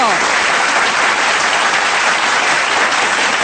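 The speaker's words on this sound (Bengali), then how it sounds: "জোরে একটা করতালি হয়ে যাবে সাকিব খান এবং অপু বিশ্বাসের জন্য" A dance-show audience claps loudly for film stars Shakib Khan and Apu Biswas after an Eagle Dance Company performance, a dense, steady roar of hands close by with no pauses.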